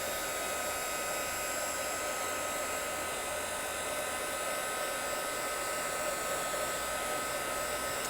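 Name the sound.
hair dryer on a low setting drying alcohol ink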